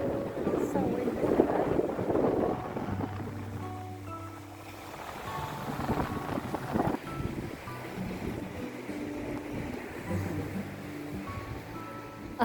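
Strong wind buffets the microphone at the Torquay seafront, with waves and surf underneath, a continuous loud roaring rush throughout while a person talks intermittently close by.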